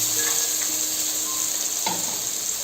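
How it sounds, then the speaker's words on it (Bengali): Chopped garlic and ginger sizzle briefly in hot oil over high heat for a Chinese restaurant-style broccoli fry, a short close hiss with one soft scrape near the end. "তো এটাকে আমি একটু হালকা ভেজে নেব খুব বেশি ভাজবো না"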